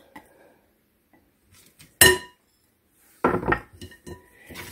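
Broccoli and bacon salad tossed with dressing in a bowl, a few brief clinks and scrapes of a utensil against the bowl separated by quiet gaps.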